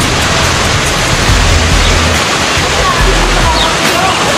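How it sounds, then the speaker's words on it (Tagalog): Spring water from the mountain pouring at a resort in San Pablo City, Laguna, a loud, continuous rushing roar close by, with a low rumble underneath and no clear talking. "yung pinagagalingan ng tubig, ayan o, galing sa bundok"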